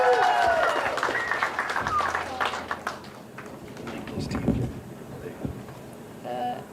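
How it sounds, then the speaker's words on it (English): Audience applause at a Why Not You Foundation event in Colorado, a dense wash of clapping from a crowd that swells and gradually thins, mixed with voices and a speaker talking over it. "Give her a round of applause"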